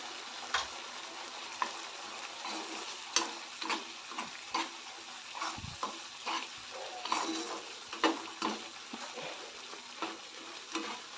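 Onion-tomato masala with turmeric sautés in oil with a low sizzle and a steady run of spatula scrapes and taps against the pan at close range, no voices.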